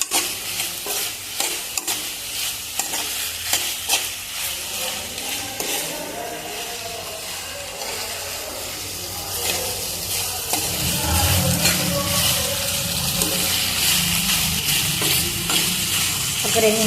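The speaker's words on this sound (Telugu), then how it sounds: "ఒక 2 నిమిషాల పాటు మంచిగా కలుపుకోవాలి." Homemade masala wheat pasta stirred in a pan, repeated scraping and clinking strokes over a continuous sizzle that grows louder and denser in the second half.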